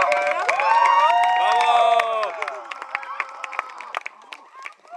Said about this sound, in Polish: Poproszę o brawa.